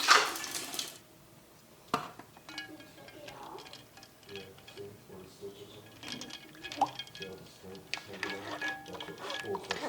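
Homemade cultured buttermilk poured into a jar in a kitchen, with soft liquid trickles, drips and clinks of glass and utensils, quiet and close, separated by brief sharp knocks.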